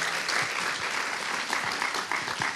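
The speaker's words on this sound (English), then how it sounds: "Round of applause, definitely." Steady applause from an audience, a dense continuous patter of many hands clapping at moderate loudness throughout.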